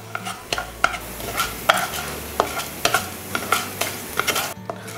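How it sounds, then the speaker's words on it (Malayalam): Urad dal fries in oil in a pan for curry leaf chutney powder, a soft steady sizzle broken by regular scraping strokes of a spoon stirring the browning lentils, close and alone. "ഇനി നമുക്ക് ഉഴുന്നുപരിപ്പൊന്ന് ഫ്രൈ ചെയ്തെടുക്കാം."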